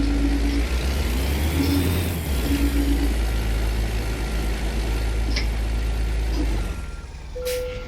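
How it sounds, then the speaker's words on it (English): Caterpillar diesel truck engine in the video game American Truck Simulator, a loud steady low rumble that rises and surges before dropping away near the end, followed by a brief hiss. "I love the way the Cat's engines sound"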